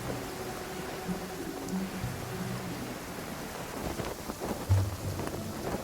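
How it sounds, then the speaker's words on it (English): Steady rain hisses and patters throughout in the video game Genshin Impact, with low rumbles like distant thunder rolling underneath; no voices. "Marching in the rain conceals the sound of our arrival"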